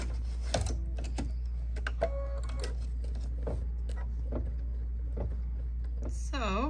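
A sewing machine stitches fabric for a bunny basket, a steady low motor hum running throughout, with light rhythmic clicks and taps close by.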